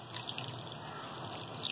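Cold water poured over strained cooked vermicelli for falooda, a soft steady splashing and trickling that stays even throughout, fairly quiet with no voices.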